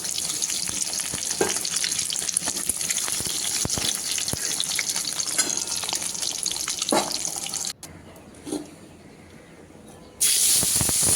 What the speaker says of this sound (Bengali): ডিমগুলো কিন্তু সুন্দর লালচে করে ভেজে নিতে হবে।